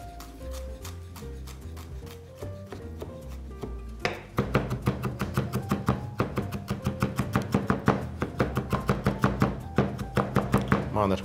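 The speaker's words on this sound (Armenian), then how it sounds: "Մանր կտրատենք, թող բույրը բացվի։" A knife chops parsley leaves finely on a board in a fast, steady run of crisp taps, starting after a few seconds of quieter background and continuing close and distinct to the end.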